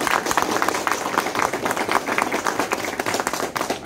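An audience at a spoken talk claps continuously, with dense, close applause filling the whole stretch at a steady level and no voices over it.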